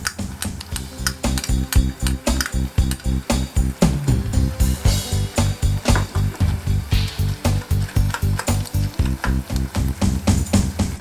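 Steak chow mein with oyster sauce and green onion is stir-fried in a hot pan, giving loud, continuous sizzling broken by fast, regular tossing and scraping strokes that repeat steadily throughout.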